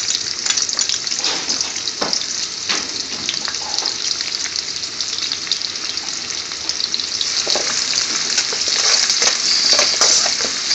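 Chopped garlic sizzles and crackles in hot vegetable oil as it is gently stirred, a steady close frying hiss with soft scraping strokes.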